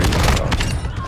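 Video-game gunfire from a custom shotgun in a multiplayer match: dense, repeated booming blasts fill the moment, with a player's voice talking over the shots.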